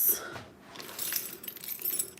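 A set of keys jangles close by in short bright metallic clinks and rattles, a few quick bursts over about two seconds in an otherwise quiet room.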